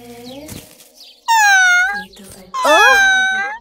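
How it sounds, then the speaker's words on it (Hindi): A cat in a cartoon gives two loud, drawn-out, wailing meows that slide downward in pitch, after quieter voice-like sounds at the start. "ओह, तो वहाँ ये बिल्ली थी।"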